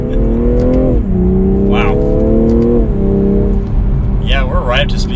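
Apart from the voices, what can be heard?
2021 BMW M340i accelerating through first and second gear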